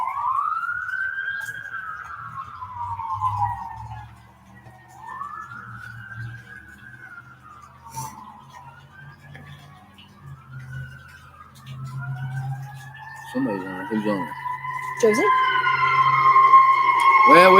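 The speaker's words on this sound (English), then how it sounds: "There goes the fire truck. Fire and ambulances." A fire truck's siren and an ambulance's siren wail in rising and falling sweeps as they pass at a distance, growing louder and overlapping near the end, while people talk nearby.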